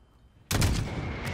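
Enemy gunfire erupts in the Call of Duty Modern Warfare campaign. A near-silent moment gives way to a sudden, loud burst of shots that keeps going to the end.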